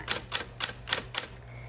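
Five crisp, evenly spaced keystrokes clack close up as letters are typed on an Electra 220 cursive typewriter, followed by a brief quiet tail.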